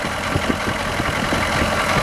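Diesel engine with an intake that recycles smoke, idling with a steady rumble and rapid low pulsing throughout, close and continuous.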